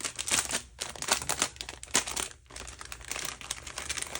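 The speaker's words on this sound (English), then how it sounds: "I apologize for all the crinkling" Packaging from a Christmas junk journaling kit crinkles up close: dense, continuous crackling and rustling of plastic or paper in quick bursts, loud and alone with no voices.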